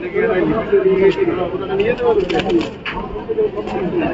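Soft, low pigeon coos repeat close by over a murmur of people talking in the background, at a pigeon market on Galiff Street, Kolkata.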